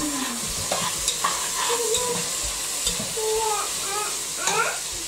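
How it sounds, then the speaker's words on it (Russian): Food being stirred in a garlic-rubbed pan, with a steady sizzle of frying and scraping stir strokes throughout, close up, and faint voices in the background. "помешай, ага."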